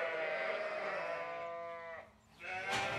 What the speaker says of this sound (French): On va aller s'occuper des brebis, c'est-à-dire leur donner à manger.